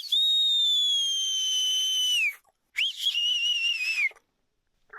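A dog whistle blown outdoors at a cold cabin gives two long, shrill, steady tones, the first lasting about two seconds and the second slightly shorter after a short pause, loud and clear with nothing else around them.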